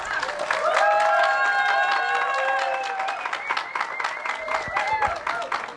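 An audience at a poetry recital applauds and cheers after a performer finishes, with dense clapping and voices holding steady, then gradually thinning toward the end.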